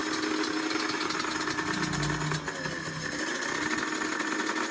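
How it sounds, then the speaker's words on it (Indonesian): A two-stroke motorcycle engine idles steadily and loudly throughout, with a buzzy, rattling mechanical drone close by. "seperti itu motor 2 tak ya. Anda bisa dengarkan suaranya"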